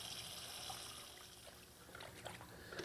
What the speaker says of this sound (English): Now you run cold water into it. That's to refresh it, to stop the cooking.